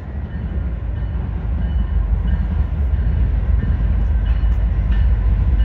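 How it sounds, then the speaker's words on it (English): Norfolk Southern locomotives lead a Union Pacific freight train through Lombard, Illinois, a loud, heavy rumble of engines and rolling wagons that builds and holds steady close by. "No, it's a freight train."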